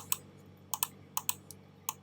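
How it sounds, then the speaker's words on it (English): Sharp, crisp key clicks from a computer keyboard struck in small clusters of two or three taps with brief pauses between them, close up against a quiet room hum. "hold down Shift on my keyboard, then click on each one going down"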